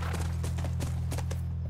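Horse hooves clip-clop in a steady, quick rhythm in The Last of Us, with moderately loud, evenly spaced falls over a constant low in-game hum.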